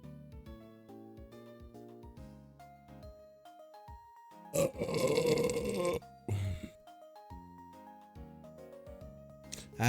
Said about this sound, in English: I come right back to burping in your faces